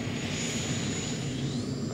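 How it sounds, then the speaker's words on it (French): Nirvana, a competition pulling tractor powered by two Isotov TV2 turbine engines, screams with a steady high-pitched turbine whine over a broad roaring rush, loud and close, with no talk. "C'est au tour maintenant de Nirvana, équipé de 2 turbines Isotov TV2"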